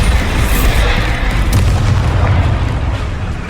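A Bombarda spell detonating in the game Hogwarts Legacy on PS4 Pro: a loud, deep, rumbling blast that fills the whole clip, with a sharp crack partway through and no talking.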